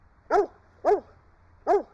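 Three evenly spaced, crisp barks from a dog nearby, with short silences between them.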